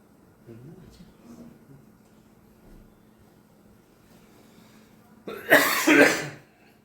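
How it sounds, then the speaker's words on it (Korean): After quiet murmuring, a loud burst of harsh coughing erupts near the end, two or three rough hacks close to the microphone. "자꾸 기침 나냐."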